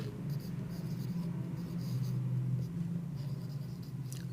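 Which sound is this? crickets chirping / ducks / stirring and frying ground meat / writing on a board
writing on a board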